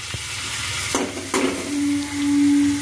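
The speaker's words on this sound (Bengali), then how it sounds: "ওদিকে এখন এই যে গোবিন্দভোগ চালটা মাম ভেজে নিচ্ছে" Gobindobhog rice is fried in a pan for payesh, making a close, steady hiss and sizzle with a couple of stirring scrapes and a faint clink, with no talking.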